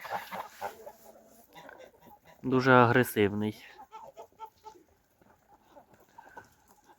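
Geese honk and call loudly in a farmyard alongside other poultry, a burst of harsh honking in the middle with quieter clucking and calls around it, while a person speaks briefly.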